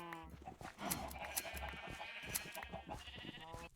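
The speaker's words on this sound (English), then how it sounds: "the sheep are taking too long" Several short sheep bleats from Minecraft sheep, layered over game sounds and light background noise, spread irregularly across a few seconds.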